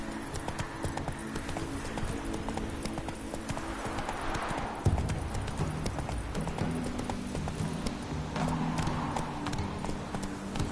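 Roach the horse gallops in The Witcher 3, rapid rhythmic hoofbeats close and continuous over rumbling background, with a brief shift in the middle.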